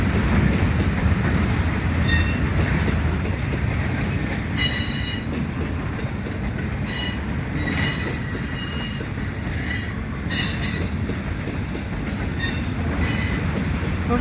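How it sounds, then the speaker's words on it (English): A CN welded rail work train backs slowly through Dorval in winter, with a steady rumble of rolling railcars broken by repeated shrill bursts of wheel squeal and faint clickety-clack, fairly close and with no voices. "I don't think I've ever seen a rail train like this backing up before."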